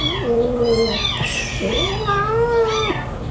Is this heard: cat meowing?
yes